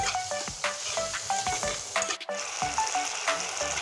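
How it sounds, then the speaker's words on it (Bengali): Rohu fish roe frying in a pan, with a continuous sizzle broken by rhythmic scraping and clinking of a spatula, close and moderately loud, no speech. "আর এখানে আছে রুই মাছের ডিম, এটা এখন দিয়ে দিচ্ছি ডিমটা। এবার সুন্দর করে ভেজে নেব।"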